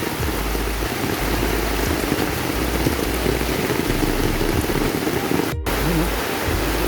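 Heavy typhoon rain pours down in a dense, unbroken hiss, loud and close, with a low rumble underneath and one brief dropout near the end.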